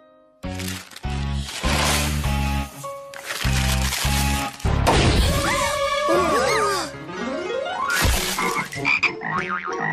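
Cartoon frogs croak loudly in a busy animated scene, a run of rhythmic croaks and wobbly bouncing tones mixed with crashes and whacks, close and dominant.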